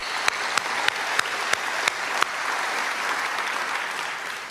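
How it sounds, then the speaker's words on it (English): Crowd applauding at a memorial celebration for Dame Jools Topp, a steady wash of clapping with several louder rhythmic claps near the front early on, then even applause continuing to the end. "yes, round of applause"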